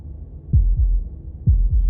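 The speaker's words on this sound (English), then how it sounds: "That was the sound of a heartbeat," Heartbeats thud in the video game Slay the Princess, two deep paired lub-dub beats about a second apart, loud and low with nothing else over them.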